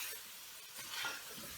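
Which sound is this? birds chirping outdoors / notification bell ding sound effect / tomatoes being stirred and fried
tomatoes being stirred and fried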